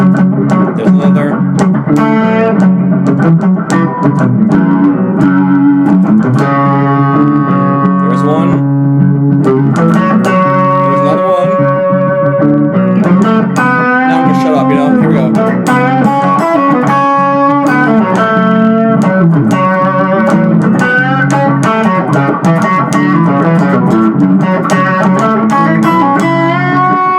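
A minor-key guitar backing track plays steadily and loudly throughout, with distorted, effected guitar chords and notes layered over a continuous full-band mix.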